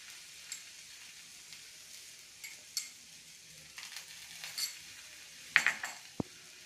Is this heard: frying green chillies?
yes